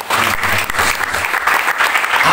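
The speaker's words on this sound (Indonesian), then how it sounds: "Berikan tepuk tangan terbaik." A church congregation breaks into dense, sustained applause, many hands clapping together at close range with no voices over it.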